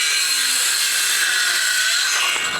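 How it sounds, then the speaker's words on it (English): A Ryobi power saw bites through 45mm timber in one continuous, loud, high-pitched cut lasting a couple of seconds, the whine tailing off as the blade finishes. "So that means with this 45mm timber, I'll try to cut right now"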